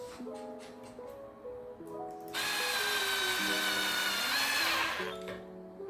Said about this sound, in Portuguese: Aí agora a gente coloca o parafuso.